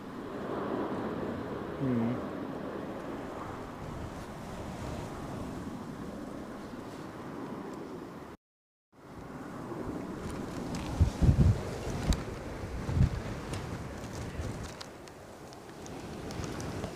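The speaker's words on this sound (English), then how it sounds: "The wind is making itself felt as we are just about to go off air." Wind gusts roar across a microphone at Edinburgh Airport, a steady broadband rush with brief louder buffets and one short dropout.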